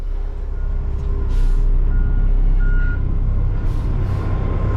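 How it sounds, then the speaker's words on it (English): Loud, close warning beeps from a dumpster truck with its hoist raised, repeating steadily over the deep rumble of the idling truck engine. "that beeping is because the hoist is up in the air"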